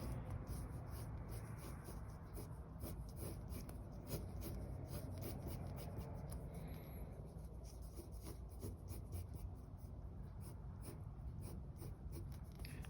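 Pencil sketching on paper, a continuous light scratchy rubbing with quick repeated strokes, close up and unaccompanied by voices.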